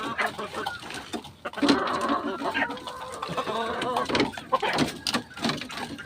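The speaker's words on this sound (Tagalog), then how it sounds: "pag mga malulusog yung manok malalakas kumain" Chickens clucking while eating, with close, busy clucks and pecking sounds throughout, someone speaking intermittently over them.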